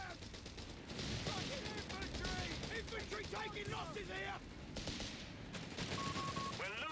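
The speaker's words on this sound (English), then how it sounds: "I think it's the mortar." Mortar fire and gunshots in the strategy game Company of Heroes 3, a dense run of sharp bursts and crackling shots with someone speaking over them.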